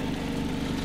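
A cogeneration unit and a generator engine run together in a steady, loud, continuous drone with no speech, the motors idling evenly at operating temperature.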